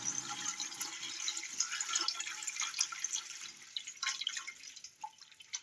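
Water is poured into a filter container holding two black ceramic filters, producing a close, steady splashing trickle with scattered drips and no talking.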